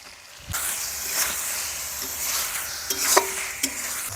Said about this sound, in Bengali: কুচে মাছের ভাজা পিসগুলো দিয়ে দেব